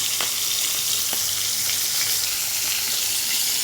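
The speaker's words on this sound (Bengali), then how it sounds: "মাছটা ভাজি হয়ে গেছে" Pieces of pangas fish frying in oil in a pan, a loud, continuous bright sizzle with a few faint clicks of stirring, heard close up with no voices.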